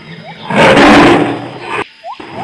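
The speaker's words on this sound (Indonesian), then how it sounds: "Ini harimau teman-teman." A tiger roars loudly and close by in a broad, rumbling burst that swells and then tapers off, with a few faint chirps after it.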